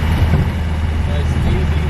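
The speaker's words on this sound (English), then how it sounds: "Now we're kind of going uphill here in fourth gear." A 1990 Land Rover Defender 110 with a 200tdi diesel climbs a hill in fourth gear, its engine a low, steady drone heard from inside the cabin beneath someone talking.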